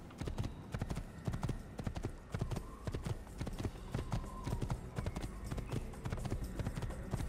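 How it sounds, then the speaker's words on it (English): A horse's hooves clip-clop steadily and rapidly, close and continuous, at a trotting or galloping pace across open ground in the Assassin's Creed video game, with no voices over them. "let's just get on our horse and head out to the open world"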